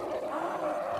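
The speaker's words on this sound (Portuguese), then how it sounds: "Estudos dos ossos que seguram a língua indicam que ele deve ter rugido como um leão." A low, sustained roar like a lion's, reconstructed for a Smilodon saber-toothed cat, steady and fairly faint for about a second.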